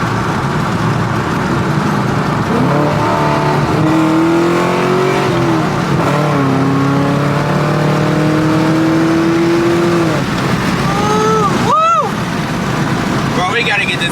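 A Chevrolet Camaro at a car meet, in need of tuning, revs loudly as it pulls away, its engine note climbing in repeated rising sweeps over constant road roar, with voices talking nearby.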